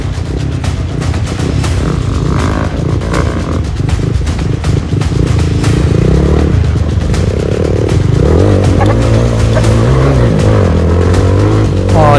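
Off-road motorcycles and superbikes setting off together on an adventure ride, loud revving and rumbling engines close by, rising and shifting pitch with clattering over rough ground throughout.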